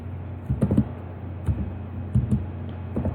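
Keys on a computer keyboard are typed in short, uneven bursts of close, crisp clicks separated by brief pauses, with no talk.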